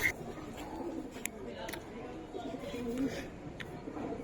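Giribaz pigeons, including a young red khaki bird, coo softly in a quiet space; the low, faint coos repeat gently with a few light chirps.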